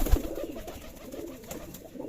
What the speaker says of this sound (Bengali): এই কবুতরটা শুধু যুদ্ধ করে থাকে অনেক কবুতরের সাথে